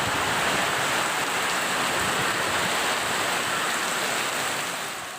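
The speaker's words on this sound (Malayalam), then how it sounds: "മഴ ശക്തമാകാൻ തുടങ്ങി" Heavy rain, with wind also present, pours down as a dense, steady roar of hiss that holds throughout and eases slightly at the very end, with no voices.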